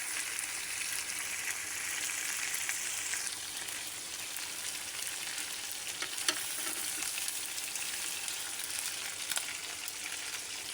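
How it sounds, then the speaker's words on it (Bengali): Chicken fries over a low flame in a pan while being stirred, giving a continuous, even sizzle like light rain with occasional scraping touches, close and steady, and no talking. "কীভাবে মুরকা ভাজতে হয়।"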